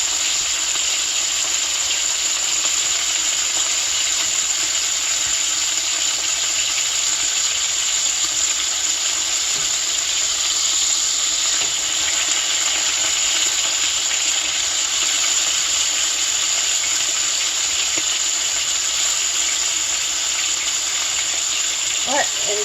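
Rosemary-lemon pork chops frying in a pan, a steady hissing sizzle running continuously and fairly loud, close to the stove, with no talking.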